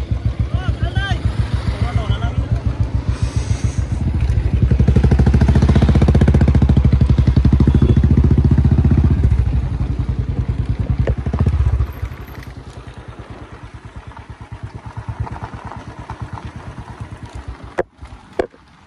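A motorbike being ridden along a jungle road in Nepal, its engine chugging in a rapid pulsing rhythm that swells louder midway then drops back, with people talking over the ride.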